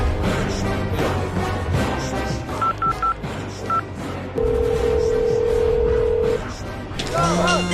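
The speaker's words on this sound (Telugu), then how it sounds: "అరే నర్సుగా ఫోన్ తీరా." A telephone keypad beeps a short run of dialing tones, followed by a long steady electronic tone, over a busy background of music and other sounds.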